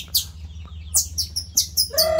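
Songbird chirps in short bright bursts, a lively series of calls close by, ending in a longer trilled phrase over a steady low hum, with people chatting around a bird-singing contest.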